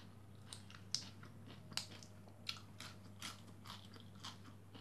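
Crisp crunching bites on fried food at a meal of green chili fried rice with anchovies, peanuts and tofu, a handful of sharp crackly chews spaced about a second apart, close and fairly quiet.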